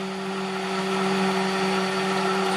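An electric blender whips homemade moisturizing face cream, its motor holding a loud, steady whirring drone close by with no talking.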